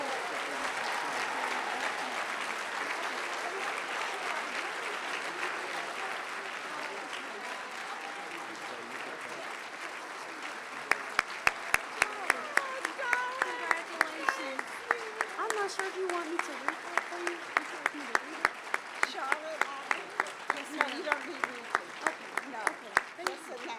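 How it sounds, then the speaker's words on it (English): An audience at an Urban League awards event for women in leadership applauds for a long stretch, a broad continuous wash of clapping at moderate level that later turns into sharper, evenly spaced rhythmic claps. "So please give her a thunderous round of applause as she comes."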